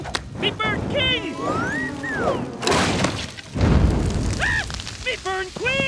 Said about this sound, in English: George, you smashed them into a termite mound